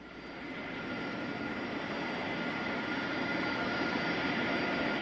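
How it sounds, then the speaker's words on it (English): The Space Shuttle carrier aircraft with Space Shuttle Endeavour mounted on top lands at Ellington Field near Houston, a steady, broad jet roar that swells slightly as it continues, heard without voices. "We're getting live footage of the Space Shuttle carrier aircraft with the Space Shuttle Endeavour."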